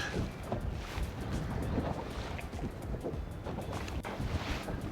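Strong outdoor wind gusting above 40 mph roars and buffets steadily the whole time, a loud broadband rush with no voices.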